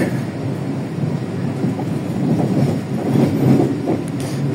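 Pasundan economy-class passenger train of the new-generation stock running through Yogyakarta, a steady loud rumble and rolling roar of the cars with faint rhythmic clatter, continuous throughout with no voices.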